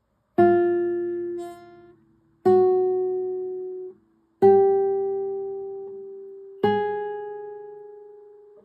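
Four plucked classical guitar notes, each struck cleanly and left to ring for about two seconds before the next, with no voices.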